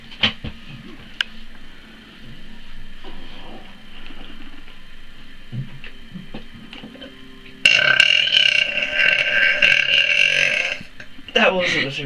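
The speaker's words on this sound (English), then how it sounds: "That wasn't a super burp, that was just a cool burp." A person lets out a loud, long burp that rumbles for several seconds after a stretch of quieter background noise and faint murmuring, then ends abruptly.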